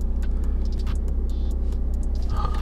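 An Audi A3 drives slowly, giving a quiet, steady low engine and road rumble throughout with faint rattles on top.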